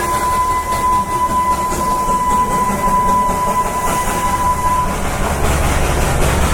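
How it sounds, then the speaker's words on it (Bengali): Darjeeling toy train rolling past on the mountain line between Siliguri and Darjeeling, a steady near rumble of wheels and carriages with a long sustained whistle tone running through most of the passage. "এখন টয় ট্রেন যাচ্ছে এখান দিয়ে।"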